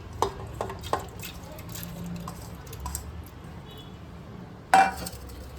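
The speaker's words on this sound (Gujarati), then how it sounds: "એમાં આપણે દાળ ઉમેરશું." Chana dal lentils tipped into a pressure cooker, heard as scattered light clinks and taps of a utensil on metal, with one louder clatter near the end and quiet room noise between.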